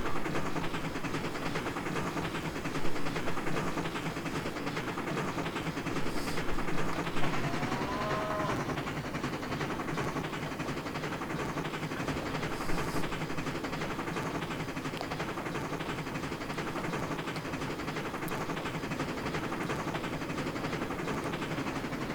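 Steam chuffing from an MNRR T-3 4-6-0 locomotive in Trainz 2019, a steady looping rhythmic exhaust under broad, constant rumble with a few brief louder bursts.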